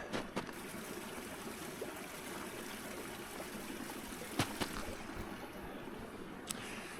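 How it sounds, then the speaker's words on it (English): Strong mountain creek in winter flowing steadily among ice, a continuous broad rushing wash close by, with a few brief clicks and knocks. "I'm at another strong creek, but there's a problem."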